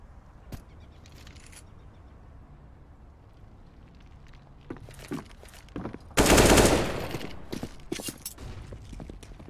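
Counter-Strike match gunfire on the Cobblestone map: scattered pistol shots and sharp single cracks, then a loud, dense burst of rifle fire, followed by further spaced shots and clicks over a low ambient background.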